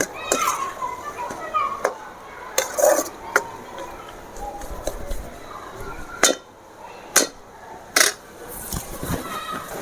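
A utensil stirs garlic masala in a pan while frying a bar-style squid dish, making sharp metallic scrapes and clinks at uneven intervals. The sounds are close and ring out over speech and faint voices of children in the background.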